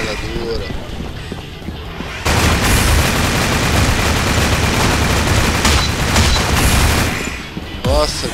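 Gunfire and explosions from the video game GunZ 2: a dense, loud barrage of shots and blasts lasting several seconds, bracketed by quieter stretches with a voice speaking at the start and end.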